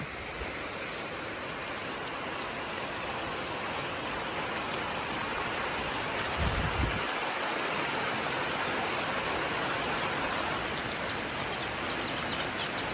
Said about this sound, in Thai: วันนี้ฝนกระตกเลยหน่อยหนึ่งเมษา